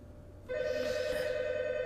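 A telephone starts ringing suddenly, a steady electronic ring tone that holds on after it begins, moderately loud in a quiet room with no talking over it.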